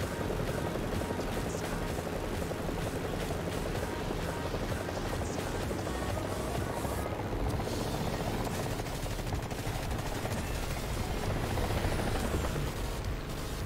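An enemy helicopter in the video game War Thunder drones with a constant rotor thrum, mixed with repeated rapid machine-gun bursts and scattered gunfire over the whole stretch.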